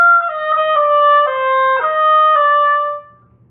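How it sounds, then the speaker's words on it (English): Solo oboe plays a short etude measure containing a grace note, a clear reedy melodic line of several sustained notes with quick ornamented attacks, close and alone with no talking. "So on the oboe, it's going to sound like this."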